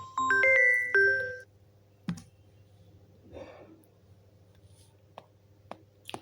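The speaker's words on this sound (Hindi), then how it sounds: "सॉरी, फोन आ गया था" Phone ringtone chiming in a quiet room, a short melodic burst of tones at the start, followed by faint clicks and rustling.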